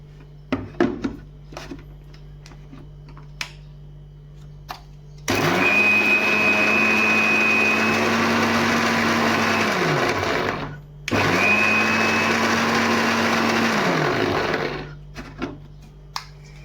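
A kitchen mixer grinder, used while cooking spinach garagata bhaji with chili, runs in two loud bursts of about five seconds each with a short pause between, its motor whine steady and alone, after some faint clicks.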